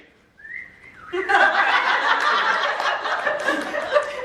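The Star Wars droid R2-D2 whistles: a short rising tone, then a loud, dense burst of frantic electronic warbling and chirping that keeps going without a break.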